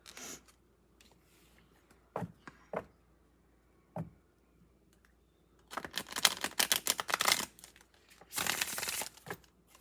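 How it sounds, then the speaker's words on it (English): Quiet room with a few soft taps, then a burst of rapid papery riffling and flicking as a deck of cards is shuffled up close. "let me give 3 taps, shuffle these cards, see what messages come out today"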